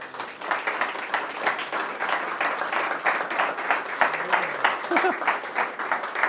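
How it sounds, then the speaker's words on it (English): Audience clapping at an annual parish assembly and community awards evening, with individual hand claps audible as a rhythmic patter, steady throughout and moderately near, and a few voices murmuring beneath. "Don't know what you're clapping for"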